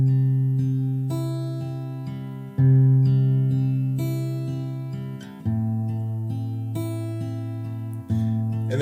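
Acoustic guitar strums the chords of a song's verse, starting on C: several strummed chords, each ringing out and decaying before the next strum, clean and close with no talking.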